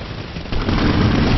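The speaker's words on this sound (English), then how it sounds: "Grenade." A grenade blast in a video game erupts halfway through, a loud, dense rumbling boom that swells and sustains after a quieter noisy lead-in.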